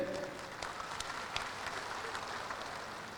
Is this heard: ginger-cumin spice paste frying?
no